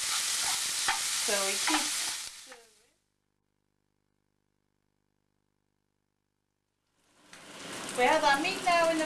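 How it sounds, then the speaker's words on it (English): Fatty meat frying in a pan gives a loud, dense sizzle for about two and a half seconds, then cuts to silence before a voice starts talking near the end. "We had our meat now in the frying pan for about maybe 2 to 3 minutes cooking, which is nicely sizzling away, slightly browning."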